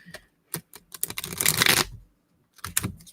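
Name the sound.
shuffling tarot cards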